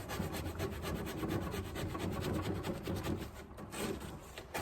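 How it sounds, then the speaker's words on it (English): Old varnish being scraped by hand off the wooden parts of a Singer treadle sewing machine, a steady rasping scrape repeating in quick strokes for several seconds, close and alone. "I'm just gonna keep scraping all this until it's fairly clean in here."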